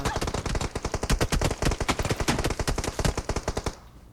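Sustained rapid automatic gunfire from a UMP or M4 in a shooting video game, loud and close, one long rattling burst of evenly spaced shots that cuts off just before the end.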